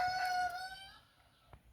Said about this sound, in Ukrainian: Ось курі прийшли поїсти